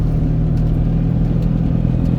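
A classic Fiat 500 engine drones loud and steady from inside the car while driving, a low rhythmic hum with light clatter and no talking.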